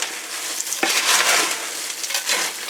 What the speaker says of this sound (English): So mix this up just a little